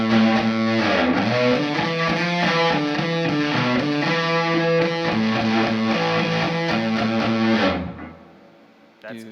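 Electric guitar played through a Catalinbread fuzz pedal with a splatty, gated fuzz tone, strumming loud sustained chords that shift steadily for about eight seconds before cutting off into hiss.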